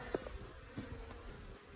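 Faint, continuous buzzing of honeybees flying around nearby in an attic hive, with a few soft knocks and handling sounds.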